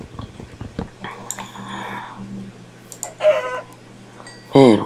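Minecraft chickens cluck in short bursts amid game sound effects, with a few scattered clicks and a louder squawk toward the end.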